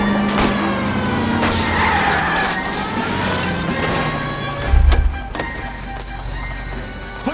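Car chase in the video game L.A. Noire: a steady engine roar with tire skids and a heavy thudding impact near the middle, followed by quieter rumbling, no talking.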